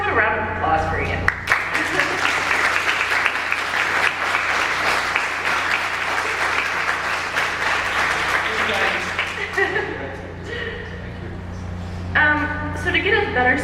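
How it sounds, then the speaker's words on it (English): Sustained crowd applause with steady clapping from many hands, swelling and holding for several seconds before fading, with a voice speaking briefly near the end. "first have a round of applause for Ian."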